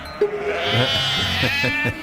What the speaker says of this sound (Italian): lì ci sono le pecore che dicono, e come fai?